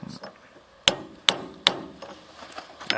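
Three sharp, loud metallic hammer blows ring out about half a second apart as a big hammer strikes a car engine to smash it apart in a garage, with a fainter knock at the end.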